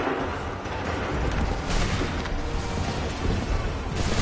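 Musket volley fired by a line of soldiers in Assassin's Creed III Remastered: a dense, rumbling burst of overlapping shots, loud and sustained, then rolling into further booming reports.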